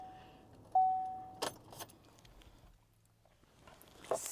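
Keys jangle in the ignition of a 2011 Chevrolet Impala 9C1 police car as a steady electronic chime sounds, followed by a few clicks and rattles before the keys jingle again near the end.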